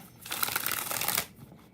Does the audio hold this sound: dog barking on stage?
no